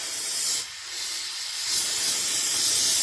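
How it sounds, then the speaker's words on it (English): An aerosol can of brake cleaner sprays close up on the rear differential of a 1976 Chevy Nova, a loud, steady hiss that briefly stops and then resumes and keeps going. "Can of brake clean again"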